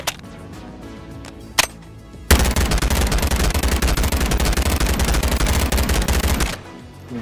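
A modded gun in Bonelab fires two sharp single shots, then a loud, rapid automatic burst of about four seconds that stops abruptly, all close and clear.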